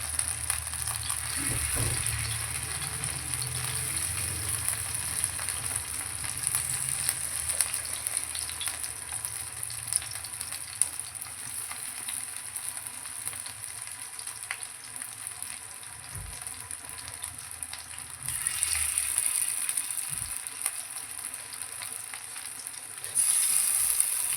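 Paneer pieces fry on a low gas flame in a pan for paneer tikka, giving a steady close sizzle throughout with a few scraping or turning knocks, and no one speaks.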